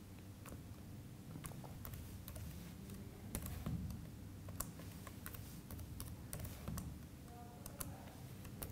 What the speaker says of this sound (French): Donc dès que je tape les premières lettres, en fait, les espèces apparaissent.